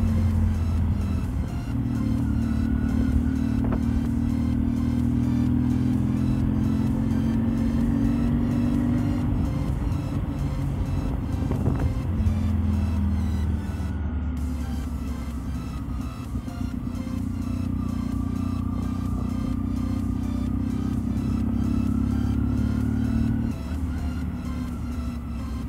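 A vintage car drives through the town of Fismes, its engine a loud, continuous close drone whose pitch rises and sags gently as it moves along.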